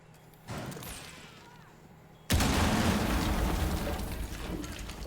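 A breaching charge detonates in a competitive tactical shooter match: quieter gameplay noise with a bump early on, then a sudden loud blast about halfway through that stays as a heavy, rumbling roar before slowly easing.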